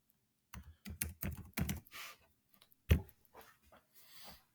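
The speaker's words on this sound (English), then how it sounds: "I cannot type today." Computer keyboard keys tapped in short irregular bursts, close and fairly quiet, with gaps between clusters of keystrokes and no voices.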